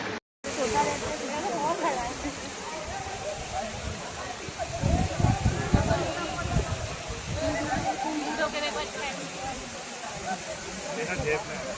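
The Devkund waterfall on a monsoon trek roars as a steady, dense rush of falling water, close and loud throughout, with faint voices mixed into the continuous wash.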